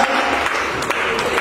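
A church congregation claps together in a dense, steady burst of applause. It is fairly loud and close, with a few sharper claps standing out from the wash of sound.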